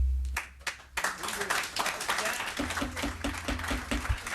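Audience clapping breaks out at a California insurance hearing on workers' compensation, a burst of hand claps from a room of people that builds after a brief pause, with some voices and low room noise mixed underneath.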